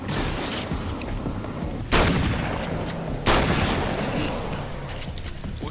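Bombs explode in the video game Alan Wake's American Nightmare: two sharp, loud booms over a dense, continuous rumble of game noise.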